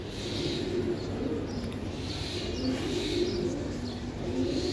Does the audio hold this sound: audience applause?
no